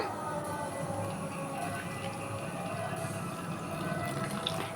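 Water pours steadily into a bowl of gram flour batter for fritters, a faint, continuous trickle and splash with no pause.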